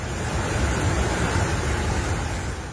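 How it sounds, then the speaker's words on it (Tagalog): Typhoon surf pounds the shore at Calayan, Cagayan during Super Typhoon Nando, a loud, steady, broadband roar of crashing waves mixed with wind buffeting the microphone, with no pauses or voices. "Kinaumagahan, kita ang lakas ng hampas ng alon sa dalampasigan."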